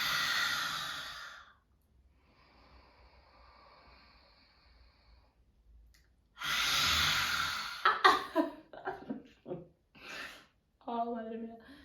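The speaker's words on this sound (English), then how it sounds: "You take a deep breath in," Two long, loud, breathy exhalations, like deep sighs, separated by quiet, faint breathing, followed by a person talking.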